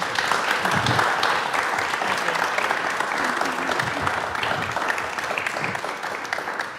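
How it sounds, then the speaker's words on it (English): A panel discussion audience gives a big round of applause, dense continuous clapping that holds steady before slowly tapering, with some low voices and murmurs mixed underneath. "Can we please have, before we do Q&A, a big round of applause for our panel."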